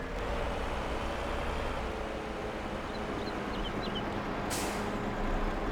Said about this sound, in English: Hit the brakes kind of early because that's a lot of weight behind us.